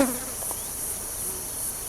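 An insect buzzes with a continuous high-pitched drone, steady and close, over a faint hum of outdoor ambience.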